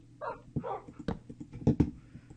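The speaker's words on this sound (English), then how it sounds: "When these freaking dogs are just in my way." Minecraft dogs barking and yipping in quick, short bursts, fairly near, with a few whimpery notes between the barks and no talk over them.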